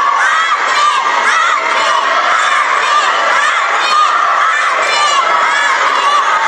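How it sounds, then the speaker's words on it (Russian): Spectators at a swimming competition in an indoor pool hall cheer and shout continuously, a dense, loud wall of crowd voices and children's yells with no break. "трибуны разрываются от криков болельщиков"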